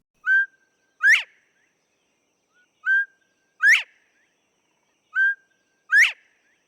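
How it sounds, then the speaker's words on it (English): Northern bobwhite quail calls out three times at a steady pace, each a clear whistled two-note phrase with a short low note then a sharp rising upslurred whistle, crisp and alone against silence. "the bobwhite making a call reminiscent of its name."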